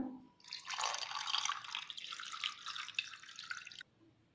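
Water pours steadily into a glass for a few seconds with a bubbly, splashing rush, then stops abruptly. It is close and moderately quiet.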